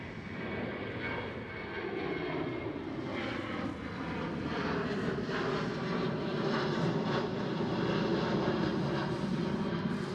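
Boeing 737-800 jet engines at Amsterdam Schiphol, a dense, rumbling roar with a fluttering undertone that builds slightly and holds steady for ten seconds, fairly distant with no voices.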